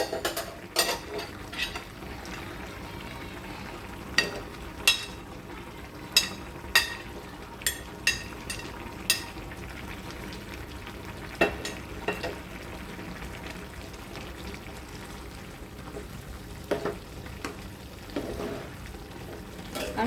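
Potatoes fry in oil in a pan, a quiet continuous sizzle broken by sharp clinks and scrapes of a utensil against the pan, with no talking.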